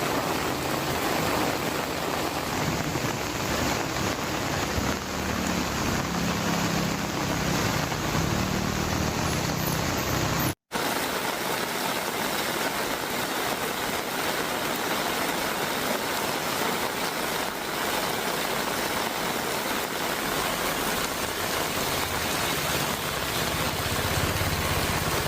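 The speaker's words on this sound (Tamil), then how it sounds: "நாகை மற்றும் காரைக்கால் மாவட்டத்தின் பல்வேறு பகுதிகளில் மீண்டும் பரவலாக கனமழை பெய்து வருகிறது." Heavy rain falling across Nagai and Karaikal districts, a dense continuous hiss of downpour with a low engine-like rumble beneath, loud and unbroken apart from one brief cut partway through.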